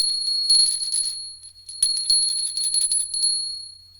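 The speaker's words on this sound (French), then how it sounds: "c'est notre clochette qui signale qu'on va passer à une deuxième étape" A small hand bell rings in quick tinkling bursts, with a short pause before a second flurry of rings, clear and close in an otherwise quiet room.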